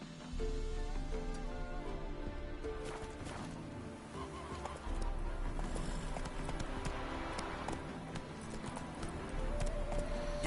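A horse gallops in The Witcher video game, its hooves clip-clopping steadily and close, with a brief whinny over a dense, constant background.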